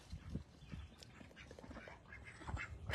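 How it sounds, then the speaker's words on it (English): A duck on a farm on a spring morning quacks several times in short, uneven bursts, moderately close, with no talking. "That duck makes me laugh every time I see him."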